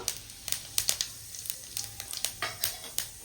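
Bay leaf, dried red chili and whole cumin frying in hot oil, giving off irregular sharp crackles and pops over a soft sizzle, close up and fairly quiet.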